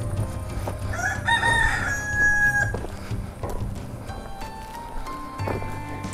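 Roosters crowing in a Trabzon highland village, a long drawn-out crow rising clearly over rustling outdoor background noise, followed by fainter calls further off.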